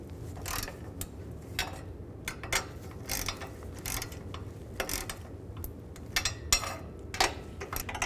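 Nuts on a 2008-2012 Ford Escape catalytic converter being tightened with a ratchet, giving repeated quick clicking bursts at close range over a low background hum, with no talking.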